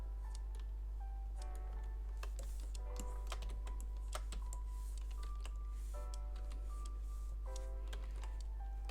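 Computer keyboard keys tapped in quick bursts while keyboard shortcuts are entered during animation work, a dense, steady clicking with a constant low hum underneath and no voices.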